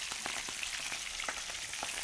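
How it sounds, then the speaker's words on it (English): Food fries in a little oil in a home kitchen, giving a steady, fairly quiet sizzle with faint crackles and pops throughout. "Sizzle, sizzle."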